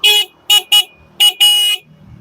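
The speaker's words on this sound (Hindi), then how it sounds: "तो सबसे पहले आपको हॉर्न का साउंड वो सुनाता हूँ।" A Beinling Markhor motorcycle horn beeps five times in quick, uneven bursts, short toots then a longer blast, loud and close with nothing else around.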